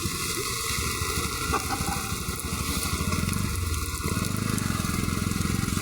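A motorcycle engine idles and putters nearby with a steady rumbling pulse, mixed with rushing water from heavy rain and flooding.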